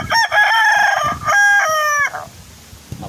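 Chickens that have just been bathed with shampoo, with a rooster crowing loudly and close by in two long calls, then a brief quieter stretch of faint clucking.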